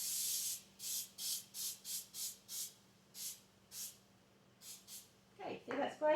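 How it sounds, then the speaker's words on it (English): About a dozen short hissing bursts from a can of cooking spray with flour, sprayed into baking pans, evenly paced then sparser, followed by a person starting to talk. "see that spray? See the flour in it?"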